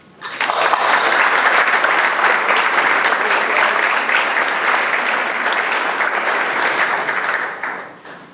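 An audience at a lecture series welcomes lecturer Judith Dupré with sustained applause. The dense clapping swells quickly, holds steady and loud for about seven seconds, then tapers off.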